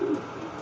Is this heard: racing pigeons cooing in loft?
yes